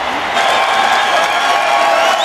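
Broad stadium applause and cheering for an Australian footballer being substituted in a 2010 friendly match against Paraguay, a continuous loud wash of clapping with scattered whoops and a commentator's voice over it.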